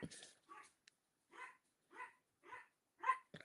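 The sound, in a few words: dogs barking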